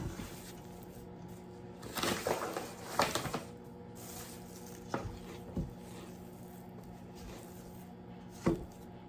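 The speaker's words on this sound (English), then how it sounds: "Now I'm going to punch the dough down" Risen homemade pizza dough being punched down and lifted from the side, giving soft, irregular thuds and squishy pats at close range in a quiet kitchen, with no talking.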